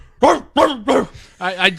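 A dog barks four times in quick succession, loud and close, each bark sharp and clear and standing alone without speech.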